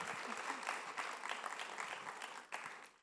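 A crowd at an Ideas of India event applauds to welcome a singer. The steady clapping is fairly faint and distant, swelling briefly near the end before fading out.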